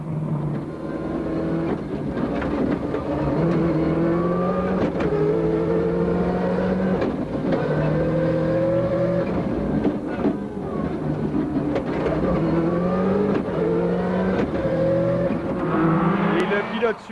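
Subaru rally car at full throttle on a special stage of an international rally in Valais, 2002, its engine loud and continuous with rising and falling revs through gear changes, under a commentator's voice.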